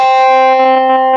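A guitar through a harsh distortion effect with a metallic, buzzy tone holds one loud sustained note, thick with overtones, alone and up close.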